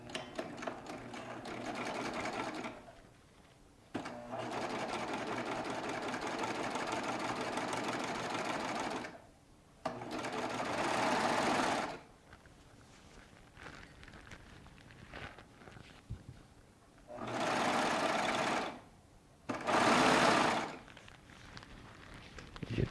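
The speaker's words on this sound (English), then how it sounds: "I'm going to let the serger pull everything through." A Baby Lock Triumph serger stitches and pulls fabric through in several bursts of close whirring, separated by brief pauses and quieter handling noises.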